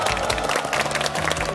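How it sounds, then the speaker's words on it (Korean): A studio audience on a Korean television variety show breaks into applause, a dense, loud burst of close clapping that fills the short moment without talk. "박수!"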